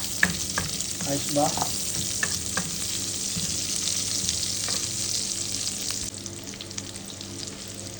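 Onions frying in a pan for steak tagalog, a steady close sizzle and crackle with scraping stirs throughout and a brief spoken word near the start.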